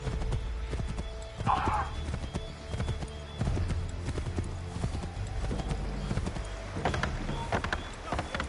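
Horses galloping in Assassin's Creed III, a steady clip-clop of hooves with occasional whinnies, loud and close over a low rumbling game ambience with faint voices.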